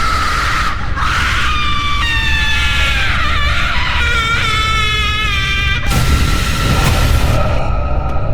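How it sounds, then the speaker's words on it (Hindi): A loud, piercing scream wavers and rises over a dense rumble on a deserted road at midnight, followed by a sudden noisy burst. "गाड़ी में बैठे उन दोनों को पीछे से आती एक भयानक चीख सुनाई दी।"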